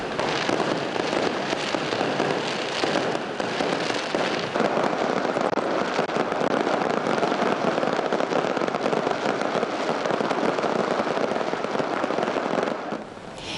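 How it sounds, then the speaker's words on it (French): Fireworks at a closing ceremony, a dense and continuous crackle of many bursts heard from a distance, steady and unbroken for the whole stretch with no talk. "La cérémonie a été clôturée avec de magnifiques feux d'artifice."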